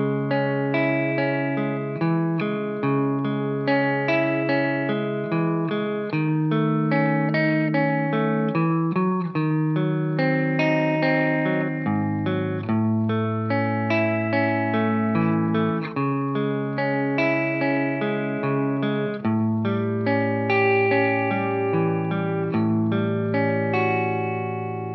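Electric guitar plays a continuous section of a song, steady chords and moving notes with a slightly effected, sustained tone, loud and close with no voices.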